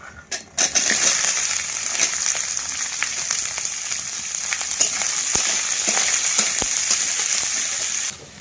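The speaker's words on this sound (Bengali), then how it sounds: "পেঁয়াজ আর রসুন দিয়ে দেবো।" Onion and garlic fry in hot oil with dried red chili and whole cumin in a Sundarban village kitchen, a loud steady sizzle close by with occasional stirring clinks and crackles.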